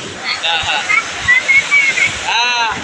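Sea waves wash and splash up on Digha beach, a close, lively sloshing of water that swells and recedes in quick surges, with people's voices audible in the background.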